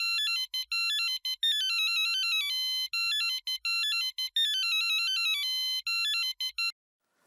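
A mobile phone ringtone plays a bright, repeating electronic melody in looping phrases for about seven seconds, loud and clear with no talk over it, then stops abruptly.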